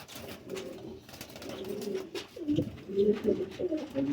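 Sialkoti pigeons, a kanta-kash breeding pair, coo in a steady series of soft, low, rolling calls at close range, growing fuller and louder toward the end with no talking.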